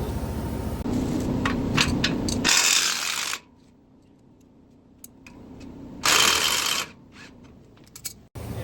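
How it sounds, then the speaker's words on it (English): A socket wrench working a lower strut bolt on a 2025 Ford Bronco, heard as bursts of rapid mechanical ratcheting and metallic clatter close up, separated by a quiet pause, with a final sharp clank. "With a 1 1/16 inch socket, you will remove this lower strut bolt."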